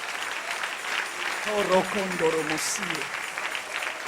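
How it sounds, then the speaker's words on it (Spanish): A church congregation claps briefly at a Sunday morning service, moderately loud, while a preacher's voice rises over the middle of the applause. "Dale un aplauso al Rey en esta hermosa mañana"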